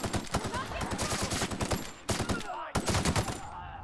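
A Light Machine Gun Mark II in the sci-fi game The Outer Worlds fires in fast, loud sustained bursts, with brief pauses before the rapid chatter resumes and then tails off.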